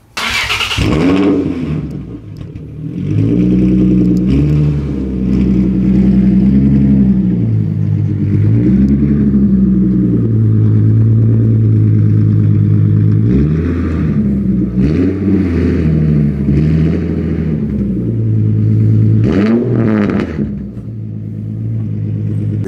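A Nissan 350Z fitted with a Tomei exhaust revs hard and close. After a short start, the engine roars loudly through several sustained rev swells, rising and falling in pitch with a deep, raspy exhaust note and no talking.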